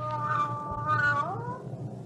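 A cat meows in a 1970s television program, one drawn-out wavering mew that bends upward near its end, heard close and clear over a low background hum.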